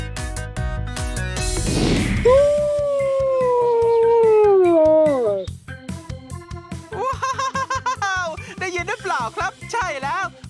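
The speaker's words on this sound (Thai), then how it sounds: "มื่อกี้หมาป่าหอนครับ" A wolf howls in one long, sustained, wavering call over a continuous music bed of a children's wildlife cartoon, followed by bouncy music.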